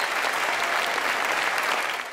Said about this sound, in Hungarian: Sokáig szólt a Taps az egyik legrégebbi társulati tagnak